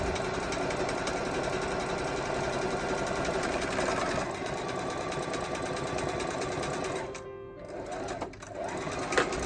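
A sewing machine runs steadily while stitching thick throw blanket fabric, a close, continuous rapid whirring hum that briefly stops and restarts near the end.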